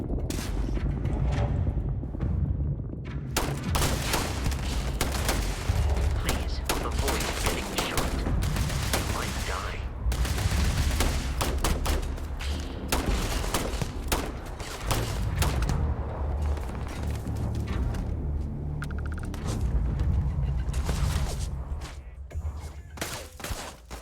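Sustained rapid gunfire from the video game Starfield, dense bursts and booming shots filling the whole stretch with barely a pause, loud and close.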